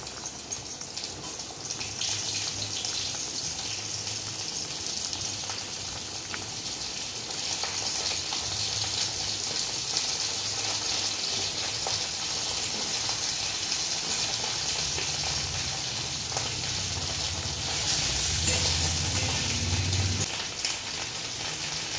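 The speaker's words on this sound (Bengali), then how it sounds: "পটলগুলো ভিজে নেবে এবার।" Pointed gourd (potol) frying in a pan, a steady broadband sizzle and crackle running throughout at close range with a faint low hum, swelling louder near the end, with no talking.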